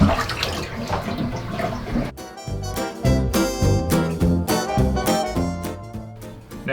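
Water rushes and gurgles as a plug is pulled and a house sink or tub drains, loud and close, with choppy bursts of sloshing and bubbling.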